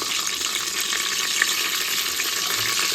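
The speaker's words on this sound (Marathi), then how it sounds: "आता आपण अगोदर खडे मसाले घालून घेऊया कारण तर गरम झालेलं आहे तेल" Whole spices frying in hot oil for a chicken dish, a steady, dense close sizzle with a bright hiss and no voices.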